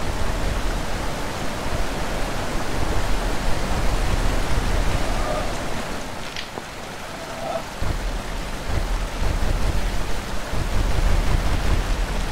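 A waterfall in the video game The Witness roars as a steady, dense wash of rushing water, loud and continuous throughout with only a slight dip midway.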